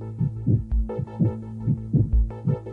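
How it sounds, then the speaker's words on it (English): A heartbeat sound effect with a steady lub-dub pulse of deep, thudding beats over a low sustained hum, evenly spaced and close. "It's the sound of a heartbeat."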